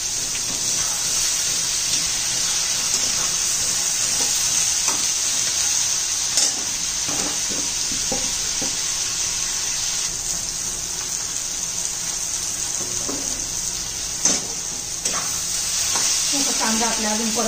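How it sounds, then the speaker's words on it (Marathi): Onions frying in a pan for chicken dum biryani give a steady, loud sizzle throughout, with intermittent scraping and stirring clatter as they are turned. "कांदा आपल्या अजून परततोय, अजून 1 मिनिट लागेल"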